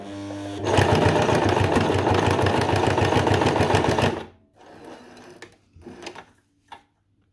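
A domestic sewing machine with a timing fault that makes it skip stitches runs a zigzag stitch in one steady, loud, rapid mechanical chatter for about four seconds, followed by a few quieter clicks and handling sounds.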